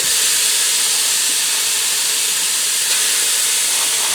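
About two pounds of ground beef sizzles loudly in a hot Ninja Speedi pot, a continuous close hiss with no pauses or speech.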